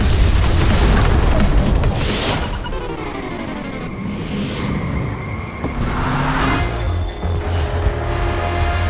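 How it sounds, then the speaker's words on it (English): Explosions and crashes in the MotorStorm: Apocalypse racing video game, as a blast rocks the road: a loud, dense roar of booms and impacts over racing engines, with sweeping engine whines and crashing debris through the middle. "an explosion rocks the road"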